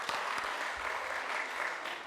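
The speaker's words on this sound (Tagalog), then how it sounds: "Yung malakas na palakpak para kay Lord." A church congregation gives loud, sustained applause for the Lord, a dense even wash of many hands clapping close by, with no voices standing out.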